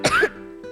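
A single short, forceful cough with a rough throat-clearing quality, close and loud, followed by a faint trailing vocal sound.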